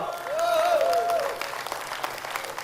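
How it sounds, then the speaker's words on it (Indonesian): Seminar audience claps in a short, steady burst of moderate applause, fairly close, with a faint tonal sweep near the start. "Tepuk tangan untuk teman saya itu."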